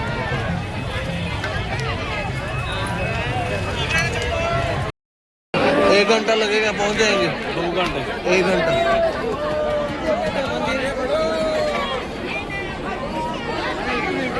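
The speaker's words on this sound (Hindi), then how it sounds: "गाइस अभी ये देखो यहाँ पे कितनी ज्यादा भीड़ है।" A large crowd near Mahakal Mandir in Ujjain, with dense babble of many voices, footsteps and calls filling the space, and people talking close by throughout apart from a brief dropout.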